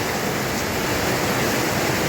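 Heavy rain pours steadily over the centre of Pangkalpinang city, a dense, even hiss with no breaks and no voices.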